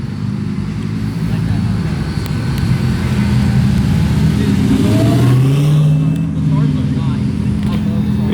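A Hellcat-style show car engine rumbles steadily at a Texas car show as it rolls in, a loud continuous low drone with a brief rising rev midway, mixed with crowd noise and talking.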